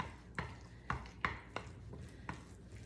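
Macaroni and cheese stirred in a pot with a utensil, five or six distinct soft knocks and scrapes spaced unevenly, fairly quiet with no talking.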